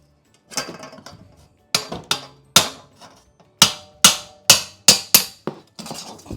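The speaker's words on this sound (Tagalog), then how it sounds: "Gamitin natin ang pry bar. Yan, para matanggal, diba?" A pry bar works at wood laminate flooring, giving a series of sharp metallic knocks and bangs, some in quick pairs, that ring briefly up close in a quiet room.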